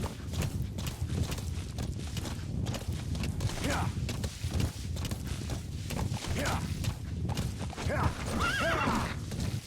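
A horse in the video game Metal Gear Solid V: The Phantom Pain gallops with steady rapid hoofbeats while neighing and whinnying several times over a busy background, with a voice talking faintly underneath.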